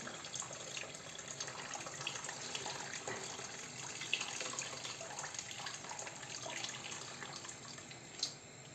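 Hot water pours steadily into a pot of Hutsul-style cabbage soup with beans, a faint, continuous splashing gush with no talking.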